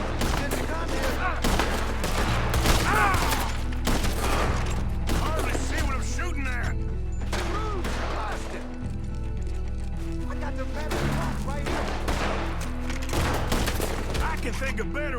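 Gunfire crackles nonstop in a nighttime shootout in the Western game Red Dead Redemption 2, with rapid overlapping shots, sharp cracks and echoing reports over a low droning music bed, and a few voices calling out between bursts.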